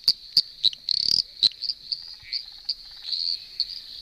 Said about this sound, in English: So that is a very tiny little frog, the eastern dwarf tree frog, and it's really loud for how big it is.